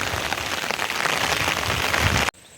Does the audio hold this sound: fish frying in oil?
no